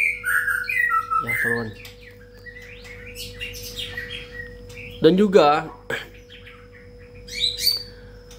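A long-tailed white-rumped shama (murai batu) chirping nearby in loud, varied bursts of whistles and rapid squawky trills separated by pauses, with someone talking between and under the calls.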